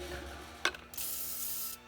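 A brief hiss of lubricant sprayed onto a new oil pan bolt of a 1997 Honda CR-V, following a small click, then about a second of steady close spray before it stops.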